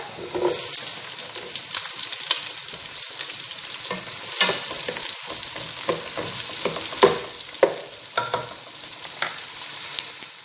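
Garlic and sliced onion fry in melted butter in a pan, making a crackling sizzle that rises and falls as the pan is stirred. Sharp spatula scrapes and clacks punctuate the frying throughout.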